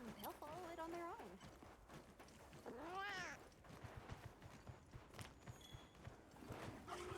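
A Palico cat companion in Monster Hunter Wilds gives a couple of short, rising meows over busy game ambience, with rhythmic hoof-like clip-clop steps and a background voice.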